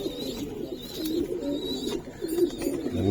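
Giribaz pigeons coo in low, throaty rolling calls, several overlapping murmurs close by and repeating steadily throughout.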